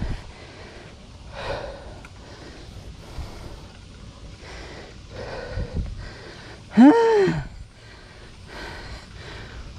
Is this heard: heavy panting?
yes